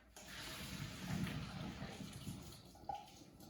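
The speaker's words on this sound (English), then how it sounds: "I'm gonna drain the pasta in my sieve right here" Pasta water pours through a metal sieve in a kitchen, a soft steady rush and splash lasting a few seconds at low volume, with a small clink near the end.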